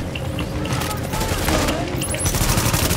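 Sentry gun firing in The Division video game, a dense rapid rattle of automatic shots close and loud for the whole span, with a few sharp metallic pings near the end.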